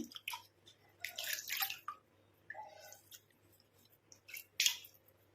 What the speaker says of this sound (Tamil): நான் இப்போ வாஷ் பண்ணியே காட்டுறேன் ஃபேஸை